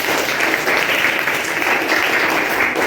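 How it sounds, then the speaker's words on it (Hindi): Students in a school stress-management and yoga session applaud together, a dense, steady burst of many hands clapping at close range that holds evenly loud throughout. "शाबाश, तालियां बजाओ एक बार में।"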